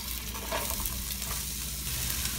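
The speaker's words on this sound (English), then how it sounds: "Now I'm going to add in my onions." Onions frying and being stirred in a pan over a low flame with ginger garlic paste for peas and capsicum pulao, giving a steady, close sizzle with light scraping throughout.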